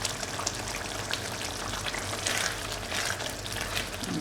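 Tomatoes cooking in a pan for tomato rice give a steady, close sizzle with soft crackles and bubbling, unbroken from start to finish, and no voices.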